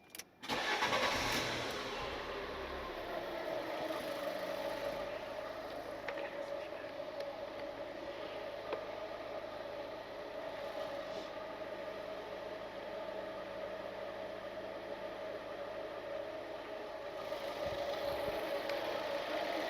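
A Fiat Panda 1.2 with a P0420 catalyst fault code starts up and then settles into a steady idle, a continuous mid-pitched engine hum heard alone with no talking.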